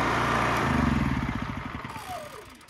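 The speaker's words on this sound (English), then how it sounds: "my generator finale. I just ran this for about 4 hours." A rebuilt Honda EU3000is inverter generator fitted with a Honda clone engine runs with a steady, chugging hum, then slows as the engine winds down and sputters to a stop.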